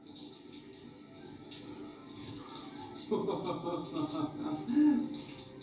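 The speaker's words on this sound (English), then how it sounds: "That's the hot and cold shower." A shower runs with water alternating between hot and cold, a steady hiss of spray that swells louder partway through, with a voice speaking over it.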